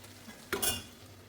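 Crushed coconut and dried chili stirred into chicken thoran: a single brief scrape of a spoon in the pan, close and fairly quiet, over a faint background hiss.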